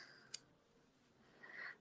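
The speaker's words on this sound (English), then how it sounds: "This is where it helps to have really sharp scissors when you have so many layers of yarn to cut through." Sharp scissors snip through many layers of yarn while trimming a pom pom, a faint single crisp click followed by a soft rasping cut, quiet and without speech.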